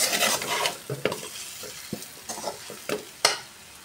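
Seeralam curry sautéing in a pan, with a sizzling hiss under close, irregular scrapes and knocks of a spatula stirring, plus a sharp clack near the end, no voices.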